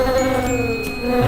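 Flies swarm in a 3D animated story, producing a continuous, even droning buzz with no pauses or voices.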